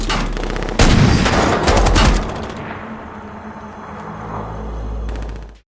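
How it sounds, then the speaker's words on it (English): Bursts of rapid automatic gunfire, loud and close at first, then tapering into scattered distant shots and a fading rumble. "Gunfire erupts again, and the remaining enemies are gradually eliminated."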